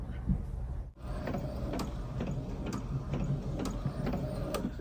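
A DTF printer runs while printing transfer paper, with a steady mechanical hum and regular clicking carriage passes, close and moderately loud, with a brief pause near the start.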